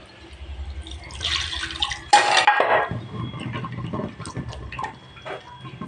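Water is poured from a vessel into a pot of fish curry masala, a short splashing pour with clinks of cookware, followed by faint drips and handling sounds, no voices.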